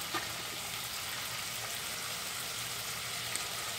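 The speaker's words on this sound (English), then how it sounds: "You hear that sizzle?" Steady, dense crackling sizzle of bacon frying in a hot pan, continuous and close with no pauses.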